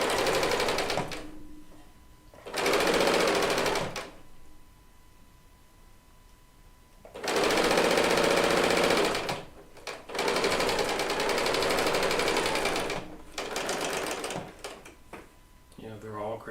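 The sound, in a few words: Baby Lock serger sewing machine running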